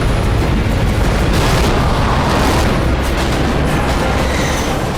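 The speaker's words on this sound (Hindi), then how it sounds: "आर्मेनिया की सेना लगातार गोले बरसा रही है" Artillery shells exploding in a war zone around the town of Terter, a loud continuous barrage of booming, rumbling blasts layered over each other with no clear gaps.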